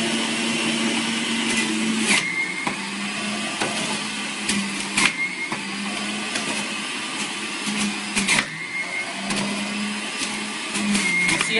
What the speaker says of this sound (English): The motor is doing very much all the work and it's working at very high speed.